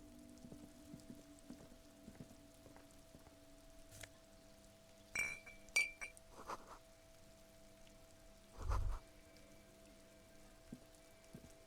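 Rain falling on a cluster of empty wine bottles outdoors: a faint, steady patter with a few brief louder knocks and clinks.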